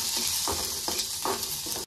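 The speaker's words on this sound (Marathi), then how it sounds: "हिरवी मिरची आणि लसूण ही पण भाजून घेणार आहे।" Green chilies and garlic roasting in a little oil in a pan, a loud steady sizzle broken by a few rhythmic stirring scrapes, close up, ending abruptly.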